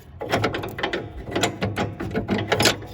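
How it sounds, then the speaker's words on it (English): A pin is pulled from the deck of a John Deere LA105 riding mower, giving rapid metallic clicking and rattling, close and fairly loud, in uneven bursts over about three seconds. "I'll just pull this pin up."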